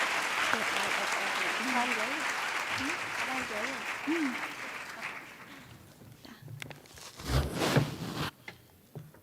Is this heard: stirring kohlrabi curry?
no